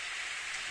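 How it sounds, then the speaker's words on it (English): Rain falls in the Steins;Gate visual novel, a short soft steady hiss with no voices over it. "Hey, it's raining."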